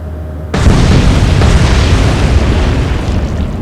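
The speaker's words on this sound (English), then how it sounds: "The two torpedoes scored good hits." A loud, deep boom suddenly erupts as torpedoes strike a ship in the naval war game Atlantic Fleet, then rolls on as a sustained rumbling roar.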